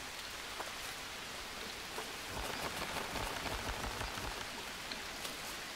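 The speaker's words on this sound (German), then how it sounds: "weil es ja regnet, ne?" Steady video game rain, from Green Hell, patters continuously on a surface, a dense hiss of drops with no voices.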